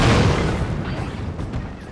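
Explosions from a Korok battle mech in a Zelda video game, a heavy booming blast with dense low rumble that is loudest at the start and then slowly decays into a noisy tail.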